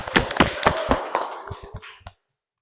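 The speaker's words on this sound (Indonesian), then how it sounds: "Tepuk tangan untuk semuanya." A small group applauds at the close of an Islamic jurisprudence lesson in a teacher-training classroom: a handful of sharp claps in quick succession, then thinning and tapering away before stopping abruptly.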